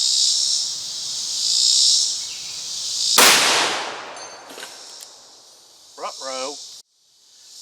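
A single sharp, loud gunshot from a .500 Magnum revolver fired at a playing card cracks out over steady outdoor insect buzz, followed by a brief ringing tail and faint noises.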